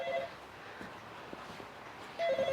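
A telephone rings with an incoming call, two short electronic ring bursts at the start and end separated by a quiet gap with faint background sounds.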